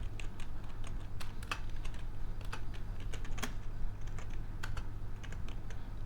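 Fast, steady typing on a computer keyboard while a C program is written, with irregular clicks and keystroke bursts over a constant low hum, close and moderately loud, no talking.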